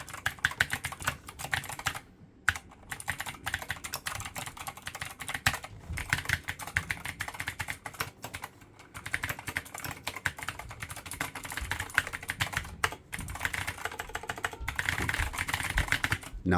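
Fast, steady typing on a Keychron K8 wireless mechanical keyboard, close and clear, a dense stream of clacky keystrokes with only a couple of brief pauses.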